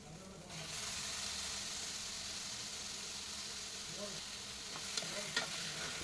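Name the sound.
chicken pieces sautéing in a pan with tomato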